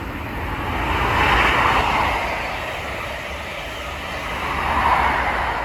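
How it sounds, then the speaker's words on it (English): An HST high speed train, the Network Rail Flying Banana, passes with a broad steady roar that swells, eases off in the middle, then builds again near the end. "that is the Flying Banana, I believe, from Crewe CS London North Western Railway site to Derby RTC Network Rail"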